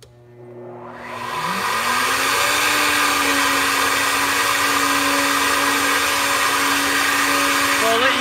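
Flow bench blowing air through an L99 4.3L V8 cylinder head at 500 lift: a steady, loud whooshing roar spins up over the first two seconds and then holds, with a faint whistling tone on top.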